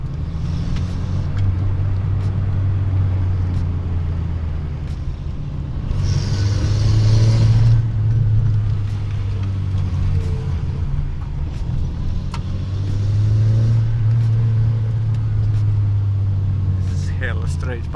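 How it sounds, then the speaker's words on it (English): Skoda Favorit engine idling with a straight-piped exhaust and only a check muffler, a loud steady low rumble that swells with light revs, while people talk nearby. "This is hella straight pipe. Just check muffler and that's it."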